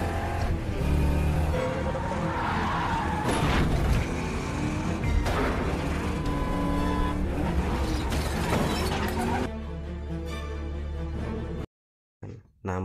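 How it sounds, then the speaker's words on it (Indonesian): In a Jack Reacher film car chase, engines roar and rev loudly, with a crash and shattering impact and tire noise over a busy soundtrack. The sound thins out near the end, drops into a short silence, then returns. "Akhirnya kejar-kejaran pun tak terhindarkan."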